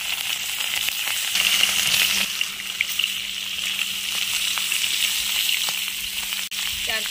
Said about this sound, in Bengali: আমি কড়াইয়ে তেল দিয়ে দিচ্ছি, আর এই যে মাছগুলো ভাজবো, ভাজার জন্য মাছ দিয়ে দিচ্ছি।